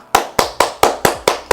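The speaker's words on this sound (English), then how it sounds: "Round of applause, ladies and gentlemen." One person claps seven times in a quick, even rhythm, each clap sharp, close and loud with a short decay, no voices.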